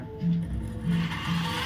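Engine valve lapping: a valve is ground against its seat, giving steady rhythmic rubbing and scraping strokes with low droning tones, close and moderately loud.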